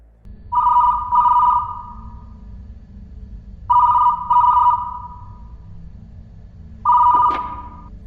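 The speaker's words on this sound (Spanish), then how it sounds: "el teléfono empezó a sonar" An old-style telephone bell rings loudly in three separate bursts, each a double ring with pauses between, clear and close with no voices over it.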